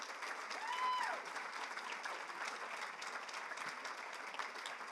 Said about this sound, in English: Please, a round of applause for Ken and Joy Breslin.